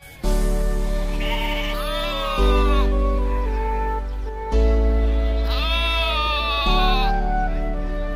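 Sheep in the video game Jurassic World Evolution 2 give two long, loud, wavering bleats one after the other, close and clear, with a steady low game drone underneath and no talking.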